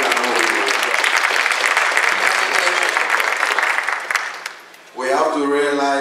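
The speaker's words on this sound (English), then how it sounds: "And a round of applause for him." Loud, sustained audience applause at a panel on Black-on-Black crime solutions, recorded through the house audio, fades out over about four seconds before a voice begins speaking.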